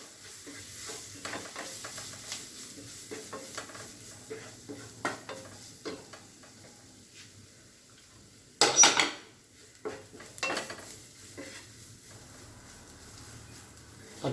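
Turmeric powder is stirred in a pan for a North Indian green peas curry, giving soft sizzling with intermittent utensil scrapes and clinks and one louder clatter near the middle.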